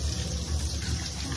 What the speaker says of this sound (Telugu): ఎర్రగడ్డలు ఇలా నీట్గా పొట్టు తీసుకొని కోసుకొని ఇలా వాటర్లో కడిగితే